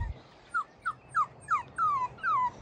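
Newborn puppies from a litter whimper in a run of six thin, rising-and-falling squeaks, growing slightly longer toward the end, close by over a quiet room.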